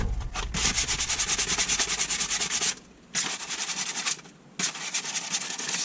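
Sandpaper rubbed hard over the bodywork of a 1998 Honda PC800 motorcycle in loud, close, rapid back-and-forth strokes, with two brief pauses between bursts and no talking.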